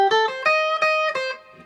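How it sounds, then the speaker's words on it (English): Five plucked guitar notes, one after another, each ringing out with a lingering tail from a Prussian Blue reverb pedal as the last one fades. "so now this is reverb, simple reverb."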